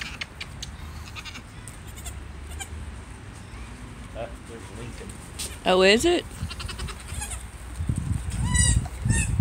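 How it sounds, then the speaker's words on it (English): Goats bleat from a farm pen, one loud wavering cry up close near the middle and fainter calls later, mixed with a person speaking and background rustling. "he's been wanting to see the goats"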